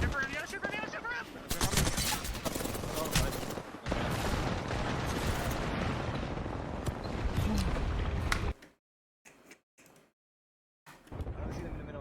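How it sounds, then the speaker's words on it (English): Rapid, sustained video game gunfire rattles loudly for about eight seconds, heavy automatic bursts with a voice talking over it, then cuts to near silence with brief fragments returning at the end. "They're all shooting."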